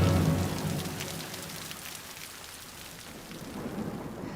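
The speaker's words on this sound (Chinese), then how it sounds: "这雨下的及时" Steady rain pours down with a low rumble of thunder rolling beneath it, loud at first and easing slightly before swelling again, a continuous dense wash of falling water.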